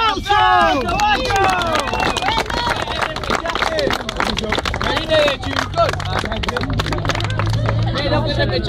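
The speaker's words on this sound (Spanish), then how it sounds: "¡Tiempo y aplauso!" Crowd at a freestyle rap battle clapping and cheering loudly and steadily, a dense roar of applause and shouting voices that keeps going the whole time with chatter mixed in.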